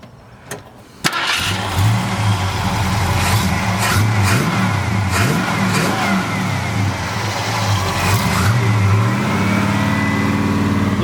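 A 1940 Ford Deluxe with a 351 Cleveland V8 and Hooker headers cranks over and fires up close by, then settles into a rough idle broken by several sharp throttle blips that rise and fall.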